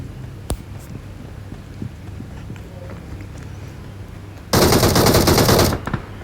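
Video game gunfire: an isolated sharp shot, then a loud sustained burst of automatic fire lasting about a second.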